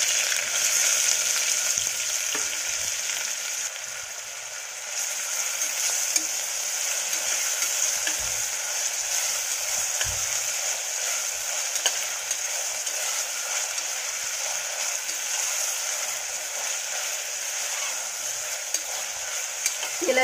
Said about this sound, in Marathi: तेल गरम झालं की त्यामध्ये खडे मसाले घालून घ्यायचे। त्यानंतर कांदा घालायचा।